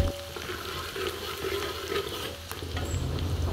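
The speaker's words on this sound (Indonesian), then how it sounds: "untuk bawang merah ini kita goreng sampai setengah kering ya" Shallots frying in oil for fish sambal, a steady close sizzle with crackling pops and faint stirring, continuous throughout with no talk.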